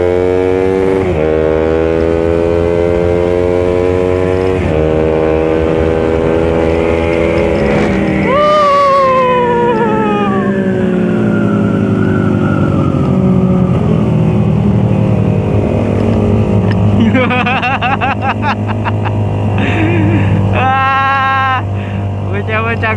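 Motorcycles revving and speeding during a night ride, engines rising and falling in pitch as they accelerate past, with a loud close engine drone throughout and people talking over it.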